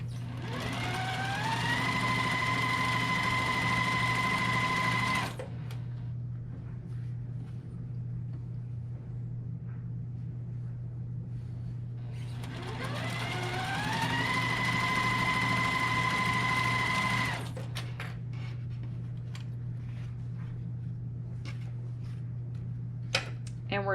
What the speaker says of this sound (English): And for this, we're stitching right on that drawn line.